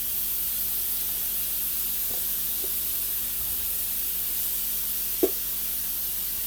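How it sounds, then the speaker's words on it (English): Shrimp sizzle in a hot pan still coated with cooking residue, a steady close hiss broken by a few faint ticks and one sharp pop. "So now I'm just going to put the shrimp right in the same pan."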